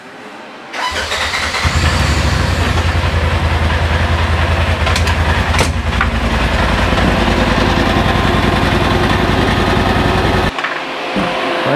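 Polaris RZR Turbo S side-by-side engine cranks and fires up, then runs at a loud, steady, close idle for about ten seconds before cutting off, with no one speaking.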